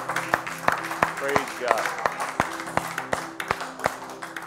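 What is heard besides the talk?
congregation hand clapping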